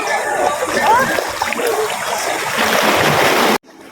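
Sea waves splash and wash against a rocky shore, loud and continuous rushing water up close, with a voice murmuring underneath before the sound cuts off abruptly.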